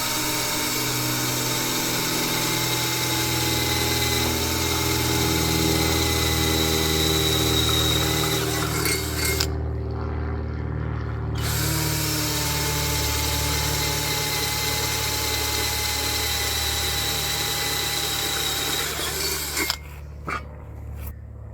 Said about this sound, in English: Honestly, I was impressed with this mini compact drill from WORKPRO.